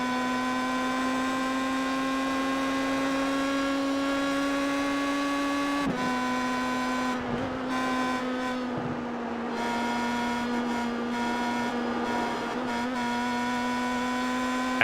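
Heard from onboard, a sim racing car at Belle Isle holds a high, steady engine whine, then drops with gear changes and climbs again through a series of shifts.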